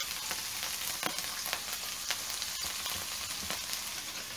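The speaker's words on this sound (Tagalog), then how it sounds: "igigisa nyo muna yung bawang, sibuyas, at luya. Sa mantika." Garlic, onion and ginger sauté in hot cooking oil for chicken tinola, giving a steady close sizzle with scattered crackles and occasional stirring clicks, with no talking.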